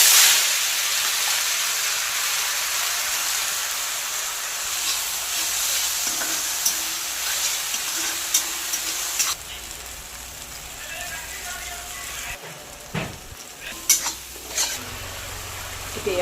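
Fenugreek seeds fry in oil left over from frying fish, for an Assamese sour fish curry with modhuxulung greens, giving a close, continuous crackling sizzle that starts loud, settles, and is broken by a few clinks of stirring.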